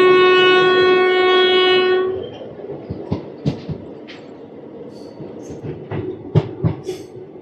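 A Circar Express train passes through a railway station, a long loud horn blast giving way to rumbling wheels and sharp rhythmic clickety-clack over rail joints.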